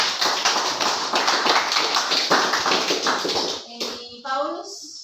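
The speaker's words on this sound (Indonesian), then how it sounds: "kita tepuk tangan dulu." A classroom of vocational high school students claps after a group presentation, with dense, fast applause for several seconds. It stops abruptly, and a voice follows briefly at the end.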